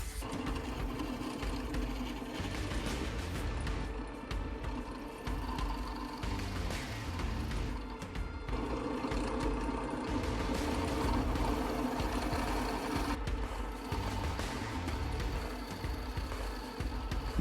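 A drill bores holes in a guitar body to size and depth for a Floyd Rose tremolo, a continuous whirring motor with rhythmic mechanical chatter and brief changes in pitch as it cuts, steady and close with no talk.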